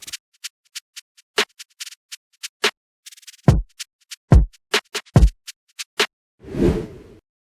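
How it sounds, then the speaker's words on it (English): A drill drum pattern from FL Studio playing kicks and snares with no 808, crisp sparse hits and a few deep kick thumps, ending with a short noisy swell, loud and free of talk. "This is how they sound without the 808."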